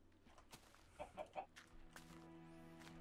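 Chicken in Minecraft Beta 1.8 gives three quick clucks in a row, fairly faint against a quiet background of in-game ambience and soft music tones.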